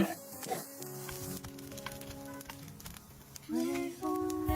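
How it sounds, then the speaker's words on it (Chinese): Lotus root shrimp cakes fry in oil in a four-hole egg pan, a quiet crackling sizzle with scattered pops, heard beneath background music. "煎定型之后，上面再给它喷一点油。"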